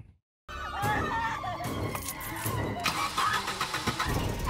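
A car engine cranks and catches in a horror film scene, a loud, sustained mechanical roar with a rough rumble that fills the clip after a brief silent start.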